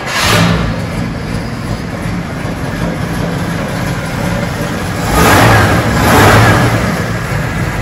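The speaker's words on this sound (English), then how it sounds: "So you turn the key and press start." A 1941 Cadillac Series 62 convertible sedan engine cranks and starts, settling into a loud steady idle with swelling revs, heard up close.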